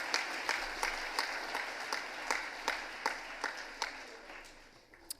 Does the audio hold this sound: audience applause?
yes